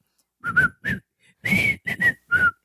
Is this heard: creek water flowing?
no